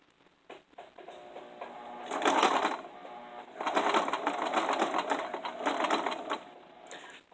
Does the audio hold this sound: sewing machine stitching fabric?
yes